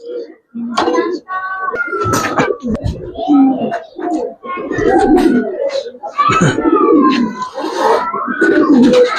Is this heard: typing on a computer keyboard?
no